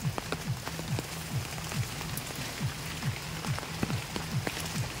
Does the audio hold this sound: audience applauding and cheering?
no